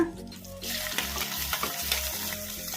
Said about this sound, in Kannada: ಇವನ್ನೆಲ್ಲ ಮೀಡಿಯಮ್ ಫ್ಲೇಮಲ್ಲೇ ಫ್ರೈ ಮಾಡ್ಕೋಬೇಕು ಮೆಣಸಿನ್ಕಾಯಿ ಎಲ್ಲ ಒಂದೇ ನಿಮಿಷ ಅಷ್ಟೇ ಫ್ರೈ ಮಾಡ್ಕೋಬೇಕು